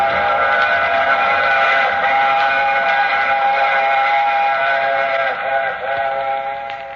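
A steam train runs in a radio drama effect, a loud sustained whistle-like chord of tones over a low rumbling roll, continuous and close for several seconds with a slight dip near the end.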